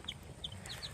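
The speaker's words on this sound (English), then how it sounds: "Baby chicks." Baby chicks give a few soft, high peeping clucks in quick succession, faint and close over quiet background noise.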